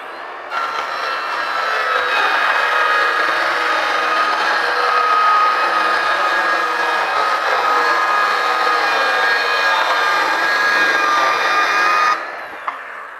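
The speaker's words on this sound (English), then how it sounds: "So now all I have to do is just cut this off, riding the base of my circular saw right along this cleat." A circular saw rips through a board for a DIY track saw fence, its base riding along a cleat, giving one loud, steady whine of blade on wood that holds for about twelve seconds before cutting off.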